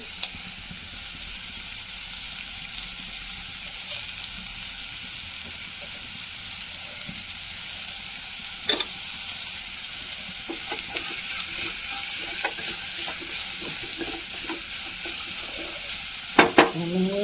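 Thinly sliced onions sautéing with a pinch of salt in a pan give a constant close sizzle and hiss, with a few scattered stirring scrapes and sharp knocks near the end.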